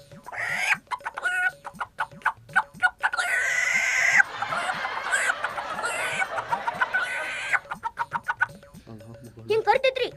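A man imitates a rooster that holds grain in its beak and calls its hens, making repeated clucking vocal calls between bursts of his own speech.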